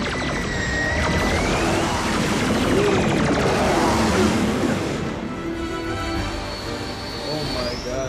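Soundwave's surveillance drone Laserbeak from the Transformers Prime cartoon flies past with a loud, sustained whooshing engine roar and shifting tones, blended with dense action-scene effects.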